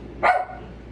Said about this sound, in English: That's my dog, Sage.